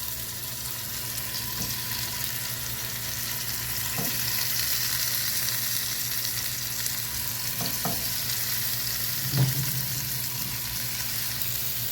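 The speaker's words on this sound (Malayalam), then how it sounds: "നമുക്ക് ഇതിലേക്ക് അടുത്ത് ബാക്കിയുള്ളതും കൂടി നമുക്ക് ഫ്രൈ ചെയ്യാൻ വെക്കാം." Remaining chicken pieces frying in a pan for Arabic rice, a constant close sizzle running throughout with a few soft knocks and clinks, no voices.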